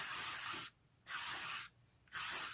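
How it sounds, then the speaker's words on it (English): Three sharp bursts of hair de-frizzer aerosol spray hiss close by, each lasting under a second, separated by brief quiet pauses. "this one, just spraying it."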